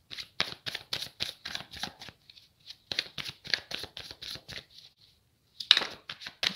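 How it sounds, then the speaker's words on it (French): Tarot cards are shuffled and drawn by hand, a rapid series of crisp riffling flicks and slaps in bursts with brief pauses, close and clear with no talking. "Je prends trois cartes"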